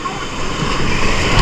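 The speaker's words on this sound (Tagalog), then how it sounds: "Ang lakas ng alon, gagi." Strong sea waves surging at a rocky coastal pool, a loud continuous roaring wash of water close by with no clear breaks.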